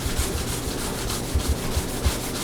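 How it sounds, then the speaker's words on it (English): A chunk of concrete rubbed back and forth over wood, used as a sanding stone outdoors for rustic Christmas decorations, giving a steady coarse scraping with soft rhythmic low thumps at each stroke, close and alone. "You mean using concrete as a sanding stone?"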